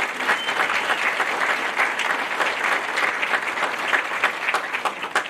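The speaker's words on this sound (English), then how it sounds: "Please give them a round of applause for their support of our students." A graduation crowd gives a steady round of applause for local mayors, dense and even clapping lasting several seconds without voices.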